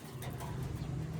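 Soft, low racing pigeon cooing hums steadily and close by, a continuous murmur with faint background noise.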